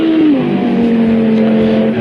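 A GT3 race car's engine holds a loud, steady high drone through a flying lap at Barcelona in the Project Cars 2 racing game, its pitch dipping briefly early on, then running evenly to the end.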